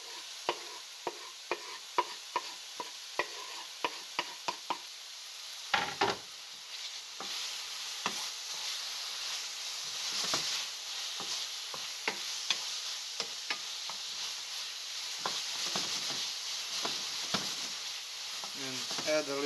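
Garlic and shallot sizzle with oyster mushrooms in a pan, a soft steady fry under frequent sharp clicks and scrapes of stirring, close and fairly quiet.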